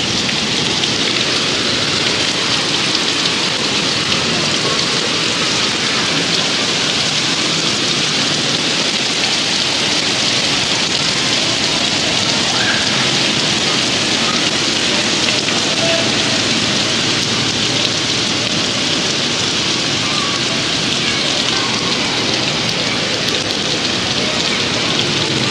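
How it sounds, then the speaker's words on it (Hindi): Heavy rain pours down steadily, a dense, loud, unbroken patter that fills the whole stretch without any pause. "इतनी तेज़ बारिश हो रही है ना, शदीद वाली बारिश हो रही है।"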